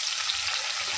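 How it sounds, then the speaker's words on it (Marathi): Tomatoes hit a hot pan of dhaba-style garlic methi masala and sizzle with a bright, continuous hissing fry, close and steady for a short moment. "आपण आता टमाटर टाकणार."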